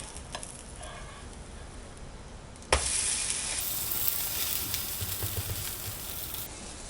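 An onion uthappam made from hand-pounded rice batter, frying on an oiled griddle: a quiet sizzle jumps abruptly louder as it is flipped, then keeps up a steady, hissing fry.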